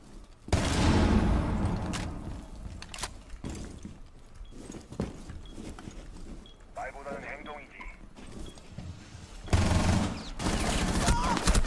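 Bursts of rapid gunfire in a shooter video game, loud and repeated, with heavy broadband blasts near the start and end and scattered shots between, under frequent excited talk.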